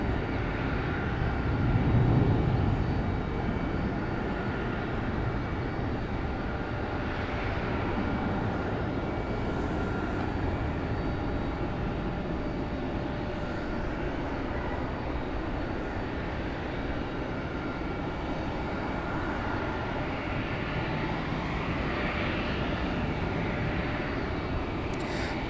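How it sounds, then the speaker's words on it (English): A JetBlue airliner taxis out toward runway 5 left at Raleigh-Durham airport under a low cloud ceiling, giving off a steady, broad jet engine roar that holds at an even level for the whole stretch, with no talk. "Looks like we got JetBlue moving out to the end of 5 left."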